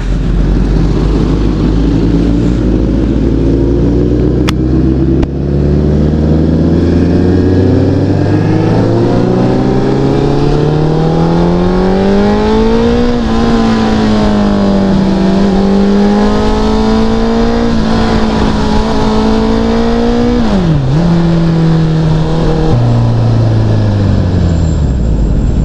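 Continuous loud engine drone of a Suzuki Hayabusa superbike on a ride to the hills, its pitch climbing through the gears in rising sweeps, with a sharp dip and recovery near the end, no voices.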